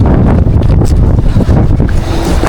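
Strong gusty typhoon wind buffets the microphone with loud, continuous low roaring and rumbling, with no voices heard.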